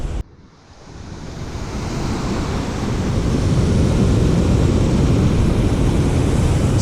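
Stream water along the trail at Rainbow Falls near Gatlinburg rushes in a broad, steady wash that swells after a brief quiet start and holds loud and close, with some wind buffeting the microphone.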